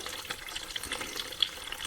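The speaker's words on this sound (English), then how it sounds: "And fill it up with distilled water" Distilled water is poured into the cooling system of a 2018 Ford Edge Sport 2.7L, a steady, close, hissing trickle of liquid with no talk.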